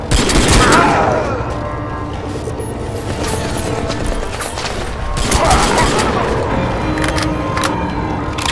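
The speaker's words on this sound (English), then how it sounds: "Under fire!" Gunfire in the shooter game Crysis 2 during a battle in a building: dense bursts of shots and booming impacts roll on throughout, loud and close, with mechanical clatter mixed in.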